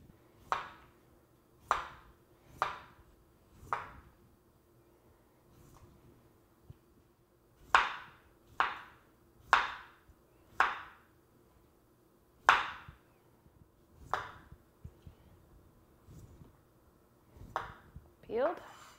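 A knife peels the skin off a beet in a string of sharp, close scraping strokes, about a dozen quick swipes in uneven bursts with short pauses between them and no talking.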